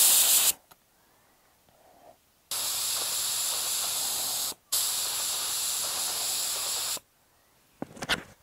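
A spray gun shoots paint onto the front bumper of a Ford F100 truck, with two long steady hissing bursts separated by a brief pause and a short final puff, close and alone.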